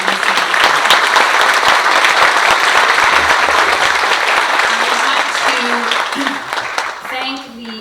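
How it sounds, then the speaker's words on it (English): Sustained applause from a large crowd at a transportation forum in a library venue fills the space, steady and loud, tapering off near the end as a voice begins to speak. "why don't we give them both a huge round of applause"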